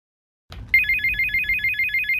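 Telephone ringing indoors: after a short soft knock, an electronic warbling ringtone starts and repeats in a fast, even trill, close and clear with no voices.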